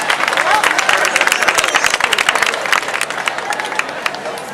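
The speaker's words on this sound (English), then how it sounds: "So one more round of applause." A crowd at a breast cancer charity walk in Modesto claps loudly and briskly, with scattered cheers and babble mixed in, fading slightly toward the end.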